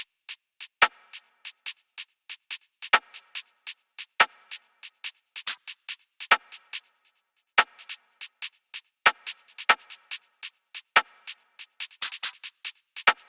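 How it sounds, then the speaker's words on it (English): Sharp, dry drum machine clap hits repeat in a steady pattern alongside other crisp percussive transients in a drill beat, with short gaps between bars and no voices. "Next, we have a clap just to compensate the work of the snare."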